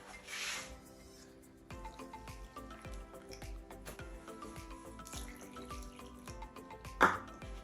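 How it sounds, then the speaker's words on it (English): Ordinary tap water poured into a spring roll batter, a faint running splash and trickle under quiet background music, with a brief louder splash near the end. "Then we are going to add in 2 cups of water. It's normal tap water will do."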